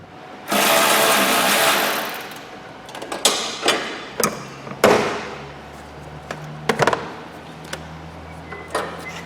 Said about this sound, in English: I'll undo a couple of 10mm, I think